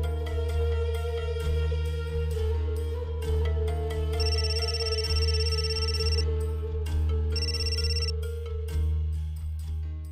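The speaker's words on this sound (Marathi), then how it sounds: "ही बाई का सारखी सारखी फोन करतेय?" A mobile phone ringtone plays as a repeated incoming call, a looping melodic tune with steady beats and bright chime notes, loud and close with no one speaking.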